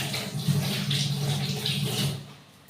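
Water from a tap runs steadily over hands being washed at a sink, a continuous close splashing rush that eases off near the end.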